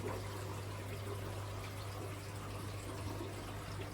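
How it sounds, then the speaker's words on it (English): Water from an automatically siphoning aquarium tank trickles and splashes onto the ground, a faint, steady stream under a low constant electrical hum. "Now and again these tanks siphon out a little bit of water automatically and just dump it to the ground"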